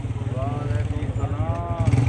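A decorated motorcycle's engine idles with a steady low chugging close by at a Sunday market, while someone talks over it.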